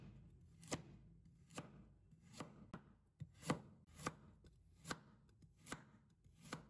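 A knife chopping a carrot into thin slices on a board, giving sharp, evenly spaced taps roughly every half second to second. The cuts are close but quiet, with faint background between strokes and no talking.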